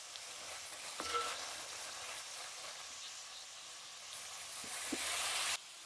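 Mutton keema hits a hot pan and sizzles steadily, a soft, even frying hiss at moderate distance with a couple of faint clinks from stirring and no talk over it.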